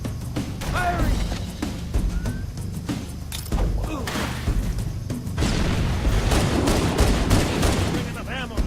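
Halo combat firefight with repeated bursts of gunfire and booming blasts, dense and loud throughout, with shouting voices mixed in.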